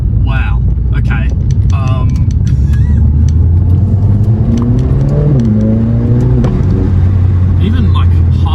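Mercedes-AMG CLA 45S accelerating at half throttle: loud sustained engine drone rising in pitch as it pulls, heard from inside the car under excited talk.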